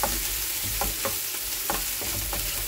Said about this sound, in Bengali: এখন রসুন আর কাঁচা লঙ্কা ফোড়ন।